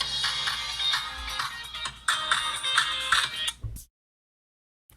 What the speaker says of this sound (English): some of you will have recognized that ringtone that just interrupted me as Love, Passion, Matador by Band-Maid